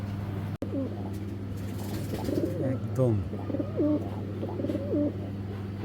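Giribaz pigeons coo in repeated low, rolling phrases close by, with a brief pause near the middle, as someone talks over them.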